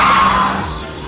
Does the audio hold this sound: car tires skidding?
yes